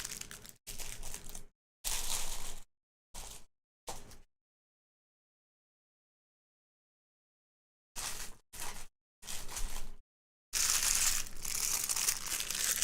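Crinkly plastic or foil packaging crumpled in several close bursts, crackling and rustling in short irregular handfuls, then a long silent gap before more crinkling and a sustained final stretch.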